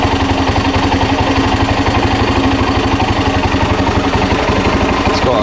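A Honda XR600R motorcycle engine idles steadily and close by, its low, even thumping pulse holding unchanged for several seconds with no talk over it.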